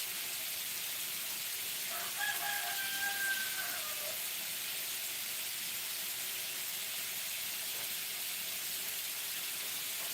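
A faint rooster crows once in the distance, a short drawn-out call over a steady background hiss.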